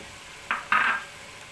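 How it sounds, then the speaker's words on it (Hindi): Chopped green chillies tipped into a pan of cooking potato and spinach, making two short sizzling, stirring bursts close by, the second longer and louder, with no one talking. "अब इसमें ये जो कटी हुई सब्ज़ मिर्चें थी अब वो हम डाल देंगे।"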